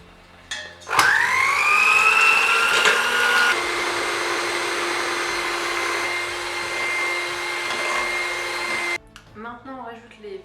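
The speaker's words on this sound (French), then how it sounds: "On va à nouveau fouetter avec le fouet" An electric whisk whips cream for a pavlova, its motor starting with a rising whine, then holding a loud, steady buzz for several seconds before switching off, followed by brief speech.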